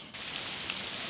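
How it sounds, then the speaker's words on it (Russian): Heavy rain falling outdoors on an October fishing trip near Rostov-on-Don, a steady dense hiss of drops on surfaces, fairly faint and continuous with no talk. "Пошел прямо сильный, пусть не проливной, но очень сильный идет дождик."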